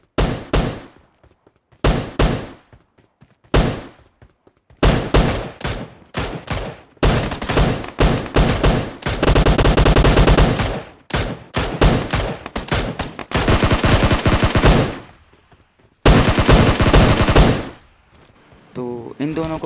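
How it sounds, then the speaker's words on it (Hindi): Loud, close gunfire in the BGMI battle royale game, in Pochinki, comes in repeated rapid bursts separated by short silences, with a few longer sustained volleys in the middle and near the end. "वहाँ से फायरिंग की आवाज़ आ रही होती है"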